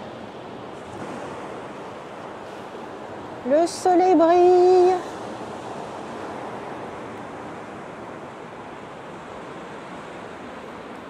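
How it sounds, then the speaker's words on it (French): Steady wind and crashing sea surf roar continuously on the beach at Pornichet, with a brief spoken phrase partway through. "Il y a bien du vent aujourd'hui"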